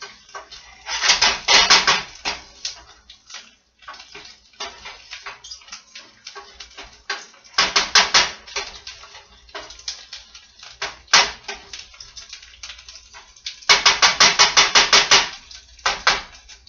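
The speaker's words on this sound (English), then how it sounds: "you're just going to stir it because you want it all to brown" A spoon scraping and clattering against a pan as rice is stirred and toasted, coming in irregular bursts of rapid scratchy strokes separated by quieter pauses, close and fairly loud.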